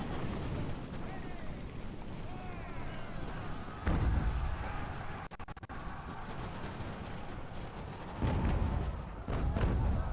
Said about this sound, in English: A lot of canister fire wrecking up these